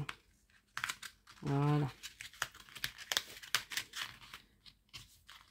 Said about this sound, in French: je redécolle légèrement